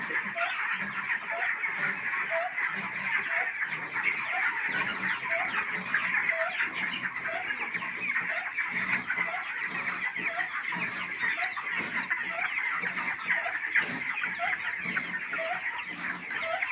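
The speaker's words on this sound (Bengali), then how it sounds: "দর্শক দেখুন মুরগিগুলো প্রচণ্ড গরমে মানে একটু হাঁপাইতেছে" Broiler chickens cluck on a farm in intense heat, a dense, continuous chorus of short, regular clucks from a close flock over a steady background hum.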